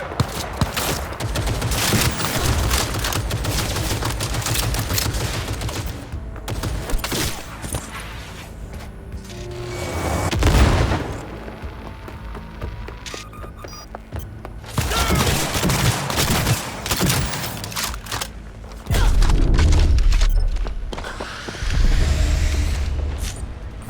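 Sustained gunfire bursts and fusillades from the video game Cyberpunk 2077, dense and loud with heavy booming impacts, brief lulls, then renewed volleys of shots.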